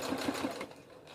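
A sewing machine runs continuously while stitching around the edge of a beauty supply store closure with tracks, its motor whirring with a steady rapid rhythm up close before slowing near the end.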